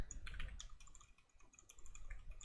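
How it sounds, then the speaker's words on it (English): Rapid typing on a computer keyboard, a steady clatter of close keystrokes with a brief lull midway, heard alone without speech. "I've never said I was good at typing."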